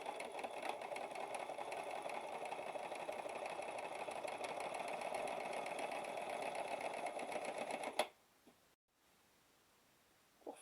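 Sewing machine running continuously around the edge of a fabric makeup remover wipe, a steady, fairly soft motor hum and rapid needle chatter for about eight seconds before stopping abruptly.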